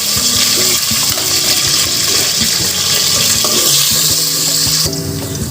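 Onion with bay leaf and garam masala frying in a pot for khichuri, a loud continuous sizzle with crackling close by.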